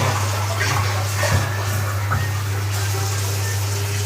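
Water poured into a karai of lentils for dal, a steady close gush and trickle running without a break and with no talk over it.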